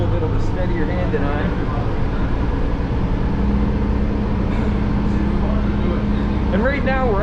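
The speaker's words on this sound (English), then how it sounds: "right now we're actually sitting where all the buses come in" Buses pull into a Disney bus station near the Polynesian Resort, a continuous low engine drone under steady nearby conversation, with brief higher squeaks near the end.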